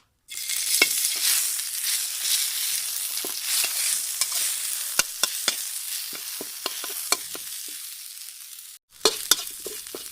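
Red curry paste sizzles steadily in a hot pan as it is stir-fried for an eel dish, with repeated scraping and clacking of a utensil and a brief pause near the end.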